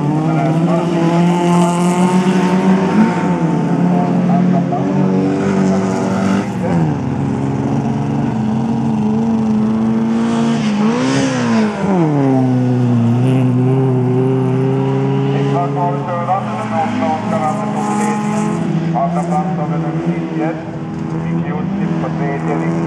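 Race cars competing in the New Boliden Race, engines revving loudly with rising and falling pitch as cars accelerate and pass, continuous close engine roar throughout under a commentator's voice.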